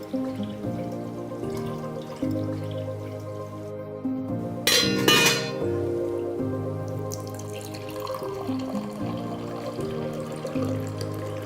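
Water is poured briefly into the upper tank of a gravity water filter, a short splashing gush lasting about a second, heard over soft background music.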